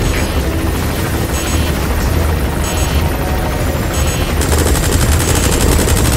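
A support helicopter's rotor thrums loudly and continuously in Metal Gear Solid 5: The Phantom Pain, with bursts of rapid gunfire layered over it in a dense, busy battle mix.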